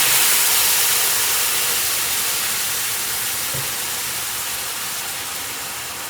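Hot caramel sauce poured into a hot pan gives off a loud, broad hiss of steam that starts strong and slowly fades over several seconds.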